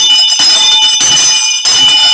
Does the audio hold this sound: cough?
no